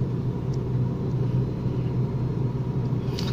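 Proton Preve turbo with automatic gearbox cruising gently, its engine a steady low rumble with road noise heard from inside the cabin, constant and unbroken, without speech.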